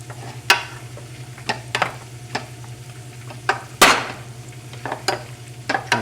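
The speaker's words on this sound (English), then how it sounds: "We're going to dump all this butter right on top of our potatoes and we're going to mash it all in together." Boiled potatoes being mashed with whole butter in a pot, heard as scattered knocks and scrapes of the masher against the pot bottom, one heavier thump midway, over a steady low hum.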